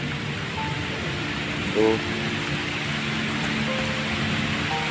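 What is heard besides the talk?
rain falling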